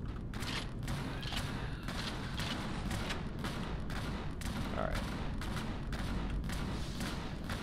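Rapid bursts of video game gunfire from a game with spiders and scorpion enemies, dense repeated shots and thuds running steadily and fairly loud throughout.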